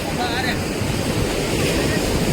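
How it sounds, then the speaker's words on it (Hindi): Sea waves roar onto a scenic beach near a natural rock arch on the Andhra coast, a loud continuous surf wash mixed with wind buffeting the microphone. "इस समुद्र की गर्जना को कानों में सुनने में इतना अच्छा लगता है"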